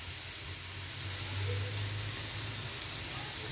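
Salted batter for a kakrol (spiny gourd) dish hits a hot pan and sizzles in a steady, close hiss with a low hum beneath it, and no one speaks.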